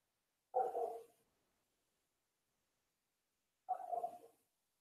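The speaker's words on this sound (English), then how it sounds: "that's their dog. They have a bunch of dogs over there." A dog barks twice in the background, about three seconds apart, each a short muffled bark from some distance amid silence.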